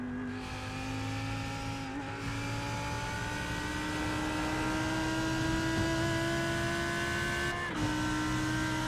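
Race car engine droning loudly in an iRacing sim replay at Road America, a sustained high whine climbing steadily in pitch, with brief breaks and tire scrub as the car spins.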